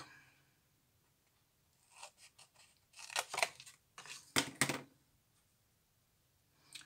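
Scissors cutting through a cardboard box in several separate bursts of crisp snipping and scraping, close and quiet, with pauses between cuts.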